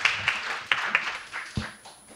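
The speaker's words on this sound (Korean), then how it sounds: "다시 한번 큰 박수 부탁드릴게요." Scattered audience clapping at a residents' assembly in a Korean neighborhood community hall, a few separate claps and light applause standing out at irregular moments before fading off.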